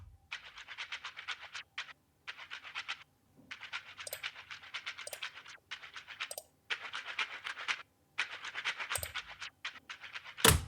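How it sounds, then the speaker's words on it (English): Chopped-up shaker loop, bursts of bright, hissing shakes broken by abrupt gaps and stutters into an uneven rhythm, played alone at moderate level. "This is a shaker loop, which I've chopped up a bit."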